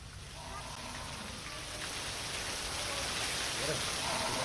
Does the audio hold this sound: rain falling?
yes